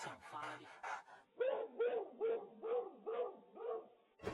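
An animated cartoon hunting dog barks about seven times in an even, rapid rhythm, loud and close, just after a short stretch of someone talking.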